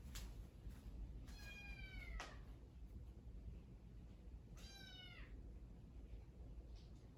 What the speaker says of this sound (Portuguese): Vamos tentar não gravar a aula com miados de gato de fundo.